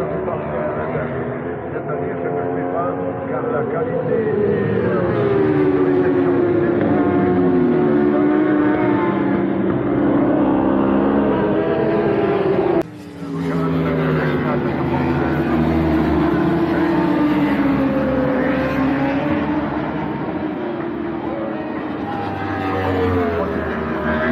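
Racing motorcycles roar past at the Spa-Francorchamps circuit during a 6-hour endurance race, their engine notes rising and falling in sustained loud sweeps while someone talks excitedly over the noise.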